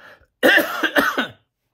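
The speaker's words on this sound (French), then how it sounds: "excusez-moi pour la toux" A single person coughs roughly, a harsh burst of a few quick hacks close to the listener, after a short quiet breath.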